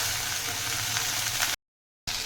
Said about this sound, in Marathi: कोकम त्याचं मी आता दोन तीन मिनटं चांगलं परतून घेणार आहे